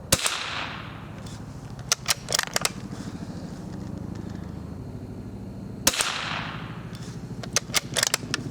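Shots from an old .22 rifle fired at a target outdoors: sharp cracks near the start, a cluster around two to three seconds, another near six seconds and more toward the end, over a steady background hum.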